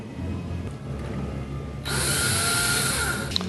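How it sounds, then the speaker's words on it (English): A power drill bores pilot holes into a metal cabinet rack for mounting a thermistor, a steady high whine starting partway through and running loud and continuous to the end over a low background hum. "I'm going to mark the approximate position of where I'm going to drill the pilot holes for the thermistor"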